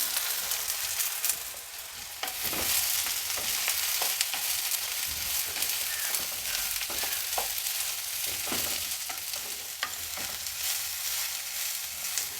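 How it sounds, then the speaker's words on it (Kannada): Cut bitter gourd sizzles and crackles in hot oil, with intermittent stirring and scraping clatters in a pan throughout. "ಕಟ್ ಮಾಡಿ ಇಟ್ಕೊಂಡಿರೋ ಹಾಗಲಕಾಯಿನ ಸೇರಿಸ್ತಾ ಇದ್ದೀನಿ"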